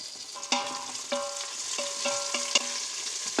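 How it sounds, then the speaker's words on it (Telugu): Onions frying in a pan after cashew nuts were roasted in it, with a steady close sizzle and sharp clinks and scrapes of a stirring spoon against the pan recurring through the whole clip. "సో ఆనియన్స్ వేగిపోయాయి"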